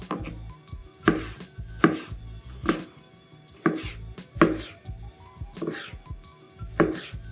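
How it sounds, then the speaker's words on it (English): A knife chops tomatoes into small cubes on a board, about ten sharp, close thuds at an uneven, unhurried pace with quiet handling sounds between cuts. "I'm just going to cut these into small cubes."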